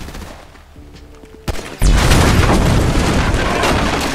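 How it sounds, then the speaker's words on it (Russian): An explosion goes off in the video game GTA 5: after a quiet lead-in with a small sharp crack, a loud sudden blast bursts out and then rumbles and roars on steadily, close and dominant. "Да, взрыв смотрелся красиво."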